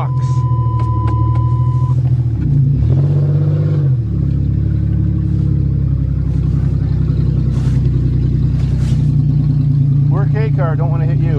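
A fuel-injected car engine idles loudly and steadily after a cold start on a November morning, a continuous close rumble with a brief rev near the start and faint voices in the background.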